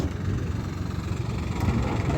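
A fishing boat's engine chugs steadily as the boat comes in to the Karikattu Kuppam fish market on ECR, a low continuous throb close by with no break.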